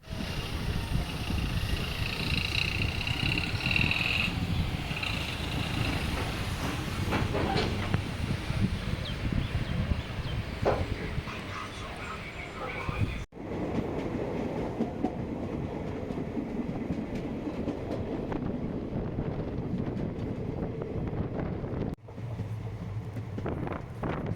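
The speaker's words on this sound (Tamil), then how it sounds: "இந்த வண்டி பேசஞ்சர் ட்ரெயின்ன்றதுனால எல்லா ஸ்டாப்லேயுமே நிப்பாட்டி தாங்க போவாங்க." Continuous rumble and rattle of a Nagercoil to Trivandrum passenger train rolling along the rails, with rhythmic clicking and a steady hum, heard from inside, sustained throughout without speech.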